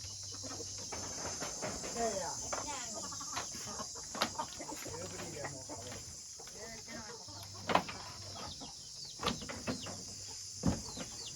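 Hens cluck softly in the background while a person talks nearby, with an occasional knock or thump.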